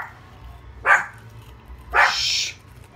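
A dog barks twice, short sharp yaps about a second apart, fairly close over a low background hum in a room during a cheese puff challenge.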